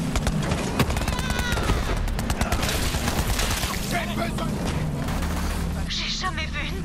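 Gunfire in the video game Borderlands 3, loud rapid shots and blasts mixed with game effects, while someone talks in French over it.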